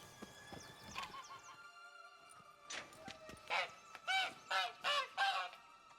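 A goose in The Witcher honks repeatedly in a steady rhythm of about five loud, close calls, after a quieter stretch of game ambience with horse sounds.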